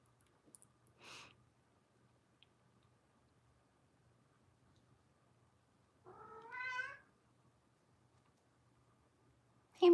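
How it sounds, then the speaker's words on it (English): A house cat gives a single clear, close meow after a brief soft earlier sound, surrounded by near silence in a quiet room. "Do you guys hear him meowing?"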